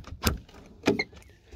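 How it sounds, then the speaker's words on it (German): A stiff door on a Fiat Multipla with about 130,000 km being opened, two loud close clunks of the latch and door about half a second apart, followed by a brief faint squeak. "Gut, die Tür war wohl schon länger nicht auf."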